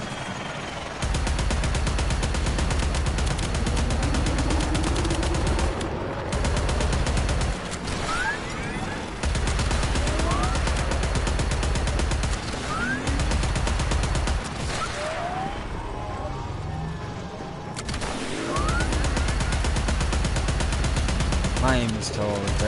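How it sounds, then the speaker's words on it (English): Sustained gunfire from the video game Warframe crackles in dense automatic bursts, broken by several short pauses, with rising game effects layered over it. "Ooh, someone's shooting me."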